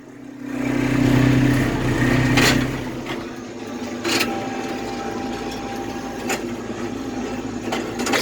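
A Cummins diesel engine runs in a Heston 8200 swather cutting barley, a steady low rumble with clattering mechanical knocks and occasional sharp clicks, close and loud throughout with no talk.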